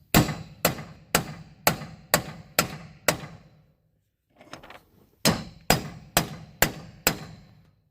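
Hammer striking a socket to press a bearing into a Miller welder generator: two sets of loud, evenly spaced metallic blows, seven then six, separated by a short pause with faint shuffling.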